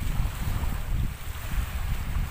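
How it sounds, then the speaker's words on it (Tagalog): Steady roar of ocean waves with gusting wind buffeting the microphone at Buyayaw Island, loud and continuous with no voices. "Malaki yung alon."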